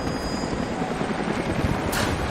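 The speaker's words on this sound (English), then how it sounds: "Jacob, helicopters are headed your way." A helicopter in Rise of the Tomb Raider roars with a dense, steady rotor wash, loud and close throughout the short stretch, with no voices over it.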